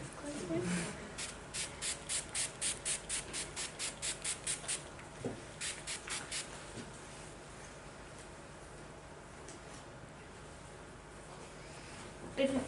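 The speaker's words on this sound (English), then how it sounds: "I'm going to finish off with some setting spray" A pump bottle of makeup setting spray fires a long series of quick, evenly spaced misting puffs, close and crisp, then a few more bursts before fading into quiet room tone.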